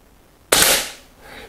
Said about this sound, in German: Ich nehme die out of the box und schieße einfach drauf los